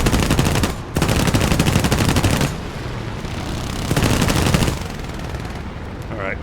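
Rapid machine gun fire from a P-36G fighter in War Thunder air arcade, long loud continuous bursts with brief pauses between them over steady engine drone.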